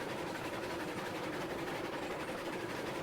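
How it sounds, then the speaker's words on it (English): Steady rumbling and rolling noise of a Shay geared steam locomotive running at full throttle up a grade in the Railroads Online video game, a continuous faint drone with no talk. "let's find out if this train can make it up the grade"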